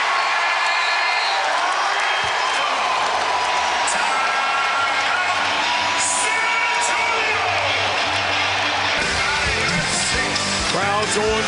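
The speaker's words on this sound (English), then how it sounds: "Crowd going crazy." Basketball arena crowd roaring and cheering wildly during an NBA playoff game between the Grizzlies' Zach Randolph and the Spurs, a dense, loud, sustained wall of whoops and yells with a sharper surge near the end.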